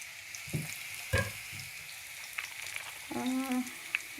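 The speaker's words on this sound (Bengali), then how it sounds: "আমি এখন মিট বলগুলো তেলের ভিতরে ছেড়ে দেবো" Meatballs fry in hot oil, giving a soft, fairly quiet sizzle. Brief clattering and stirring noises rise above it now and then.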